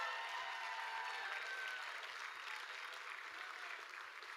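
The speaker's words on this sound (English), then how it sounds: "let's give a big round of applause for Brandon Noto, A&B Auctions." An audience claps at an education foundation gala, a dense sustained round of applause that stays full and even across the whole stretch with no talk over it.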